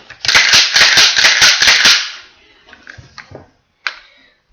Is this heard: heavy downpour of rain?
no